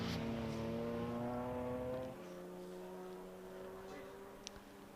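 A racing car is driven hard into Club corner at Silverstone, its engine note loud and droning, then dropping in pitch as it decelerates about halfway through and settles into a steadier, quieter tone.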